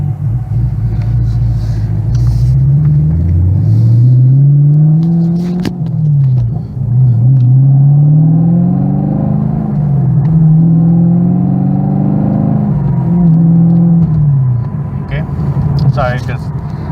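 A Chevrolet Camaro drives on the road, its engine droning close and loud and climbing in pitch through several gear changes, with a steady rumble throughout.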